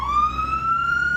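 A vehicle siren sounds a single sustained, slowly rising electronic tone, moderately loud and close, with a low engine rumble beneath it.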